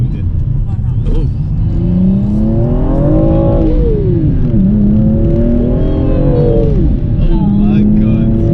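A Stage 2 wrench-tuned BMW M235i pulls hard through its gears from inside the cabin, the loud engine note rising and falling in sweeping pitch between shifts while people talk excitedly over it.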